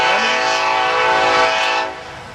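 A train horn blares loud and steady beside a large abandoned store, its layered tones holding for about two seconds before dropping off, with the rumble of the passing train underneath.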